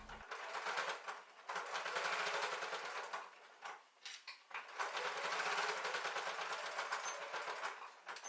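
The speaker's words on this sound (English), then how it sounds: "Sew the bias in place, making sure to backstitch at the start and the end to keep the bias firmly in place." A sewing machine stitches bias binding onto a boxy zipper bag, a fast, steady mechanical whirr in several bursts with short pauses between runs, close and clear.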